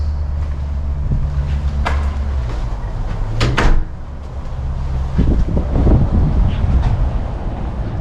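A house door opened on the way outside in a single-story home: a couple of latch clicks and a swinging thud partway through, followed by open outdoor wind and rumble.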